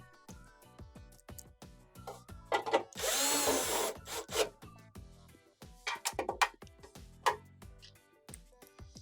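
A power drill drives 5 1/4-inch screws around the perimeter of a Whirlpool Swash heater assembly unit in short spinning bursts, one longer whir among several brief ones, with clanks and handling noises between them.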